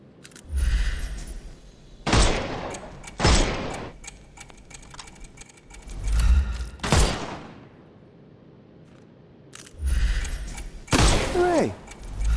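Gunshots from Sherlock Holmes Chapter One ring out in several loud separate bursts, each sharp crack followed by a short tail, with quieter gaps between them.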